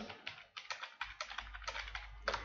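Keys clack in irregular bursts as code is typed on a computer keyboard during a Python lesson, with close, crisp taps and no voice.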